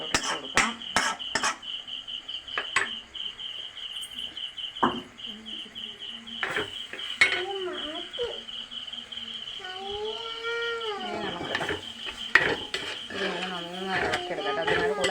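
A spoon stirs scrambled eggs into gravy in a pan, giving irregular clinks and scrapes against the metal at close range, with a steady high insect-like whine in the background.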